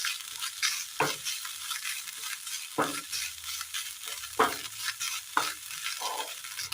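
Grated coconut is stirred and roasted in a pan, with a steady dry sizzle broken by several sharp scrapes of the spoon against the pan, and no voices.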